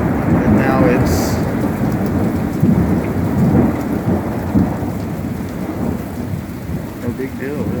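Summer hailstorm in Central Florida, with heavy rain pouring steadily onto surfaces and low thunder rumbling through, loud and dense the whole way with a few sharper spatters near the start.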